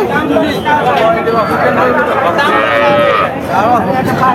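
A cow lows and moos amid a busy cattle market with cows and calves for sale, with several people talking loudly over the animals throughout.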